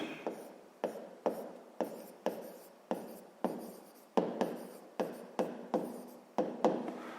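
Someone writes out a math check by hand: about a dozen short, scratchy strokes come in an even rhythm, close and clear, with no talking.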